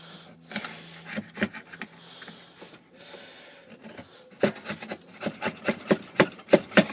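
Chisel shaving and cutting into bamboo for a knife handle, a dry scraping rasp at first, then a series of sharp, close wooden strikes and cuts that grow louder and quicker toward the end.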